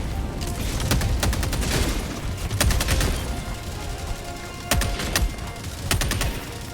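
Autocannon fire against Automaton enemies in Helldivers 2 comes as bursts of heavy, booming shots with gaps between volleys, loud and close over a rumbling battlefield background.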